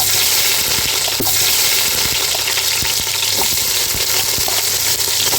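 Cumin seeds crackle and sizzle in hot oil for khichuri, a loud, dense, continuous frying hiss scattered with sharp pops and light clicks throughout.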